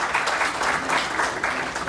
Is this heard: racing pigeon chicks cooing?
no